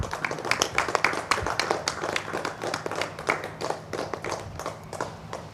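An audience claps together at a Sri Chakra consecration ceremony, steady rhythmic hand claps, loud and close, continuing evenly throughout with no talk over them.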